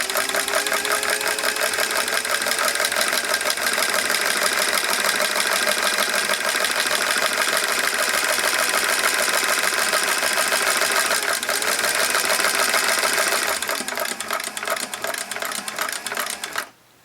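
A roughly 60-year-old vintage sewing machine stitches a buttonhole, its rapid, even mechanical chatter running loud and close without a break before tapering to a stop at the end.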